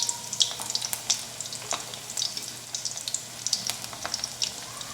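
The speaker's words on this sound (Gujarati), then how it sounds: "આ જ રીતે આપણે બાકીના બધા જ મુઠિયા તળીને તૈયાર કરી લઈએ" Muthiya dumplings deep-frying in hot oil give a steady, close crackling sizzle with sharp bursts and pops throughout, no voices.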